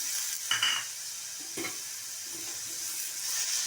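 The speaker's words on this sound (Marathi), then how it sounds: "दोन्ही घालून असं चांगलं मिसळ हलवून घ्यायचं" Flat beans and potato pieces are stirred together in hot oil with tomato; a faint, constant sizzle runs beneath a few soft scraping strokes of the spoon against the pan.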